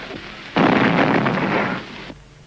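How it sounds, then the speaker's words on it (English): A bomb thrown at Gandhi's after-prayer gathering goes off as a sudden loud blast, followed by a roaring burst of noise lasting over a second before it cuts away, with no voices. "The explosion was from a bomb thrown by a Hindu refugee to kill Gandhi."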